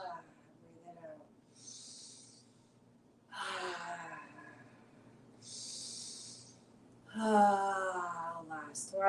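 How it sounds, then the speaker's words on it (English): Deep, airy breaths during a guided breathing exercise: two soft, drawn-out exhales about a second long, close and fairly quiet, alternating with a calm speaking voice between them. "Breathe it out."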